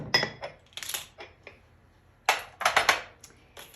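Spoon clinks and scrapes against a bowl as sugar is stirred in for a tart, a quick burst of metallic taps followed by a longer cluster of loud close clatters, no talking.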